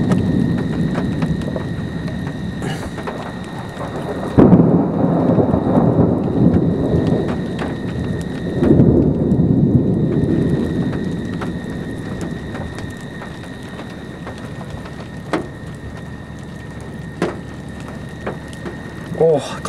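Thunderstorm during a storm chase, with steady rain drumming on a vehicle and deep rolling thunder swelling loudly mid-way, while people talk intermittently over the downpour.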